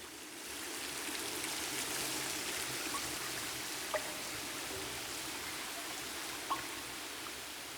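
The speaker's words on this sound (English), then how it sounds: "From beneath the waterfall, the sound of running water echoes in the cave." A steady, rushing flow of water from a waterfall echoes in a cave, continuous and enveloping, with a couple of faint drips standing out.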